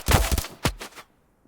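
Brief burst of automatic machine gun fire in the mobile shooter Standoff 2: a rapid cluster of sharp shots over about a second, then a final distinct crack, close and fairly loud with no voices.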